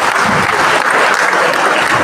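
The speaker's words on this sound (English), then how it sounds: "I expect us to give him a round of applause" An audience at an engineering conference opening ceremony claps in a loud, dense burst of steady applause that fills the whole moment without letting up.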